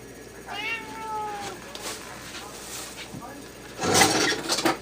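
A house cat gives a couple of short, rising meows near the start. Someone talks nearby in a quiet kitchen, and there are light rustles and a brief clatter toward the end.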